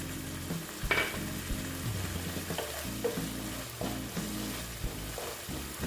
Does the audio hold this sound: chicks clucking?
no